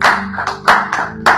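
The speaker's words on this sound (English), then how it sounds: "We are not clapping very well." A church congregation claps hands in a close, loud burst of claps with a steady rhythm, alongside a sustained musical tone.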